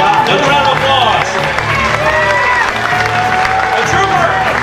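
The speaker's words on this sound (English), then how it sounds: "Another round of applause." Loud, sustained applause and cheering from a festival crowd at a Superman-themed costume contest, with whoops and talk mixed in throughout.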